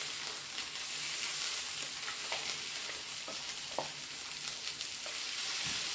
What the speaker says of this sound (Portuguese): Estou fritando